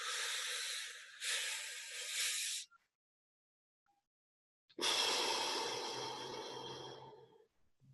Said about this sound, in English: Pretend you've got a cigarette in your hands and inhale.